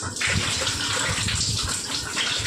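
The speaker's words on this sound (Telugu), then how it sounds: "ఇప్పుడే కడిగిన ఈ నీళ్ళు పోసేస్తున్నా" Water used for washing is poured out in a steady, splashing gush close by, a continuous wet rush lasting a couple of seconds.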